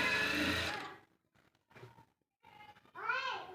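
A sewing machine stitching a blouse runs in a short loud burst of under a second, then stops while a voice speaks quietly.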